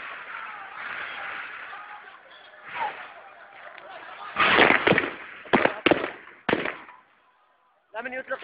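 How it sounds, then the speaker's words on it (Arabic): Live gunfire aimed at protesters in Azaz, Aleppo: several sharp cracking shots in a quick cluster, then isolated reports, over a crowd chanting and shouting in the distance. "من يطلق رصاص حي على المتظاهرين"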